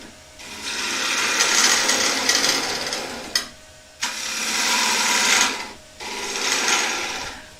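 Steel gouge cutting a wooden bowl on a spinning lathe, shaping a thin-walled bowl: a loud, continuous rushing scrape in three long passes, with brief pauses between cuts.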